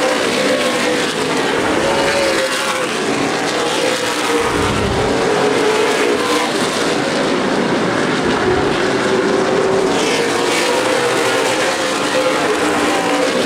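CRA Super Series race cars circle Anderson Speedway in a steady, loud roar of engines at full throttle, the pack's drone swelling and fading as cars pass, with no one speaking.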